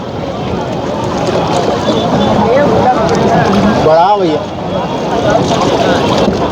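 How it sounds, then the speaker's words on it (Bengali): A boat travels along a river at full high tide near the Triveni Sangam at Prayagraj, giving a steady, loud wash of engine and water noise with wind buffeting the microphone and voices faintly mixed in. "এই নৌকাতে করে আমরা ছজন যাচ্ছি আর সবাই আমরা লাইফ জ্যাকেট পরেছি"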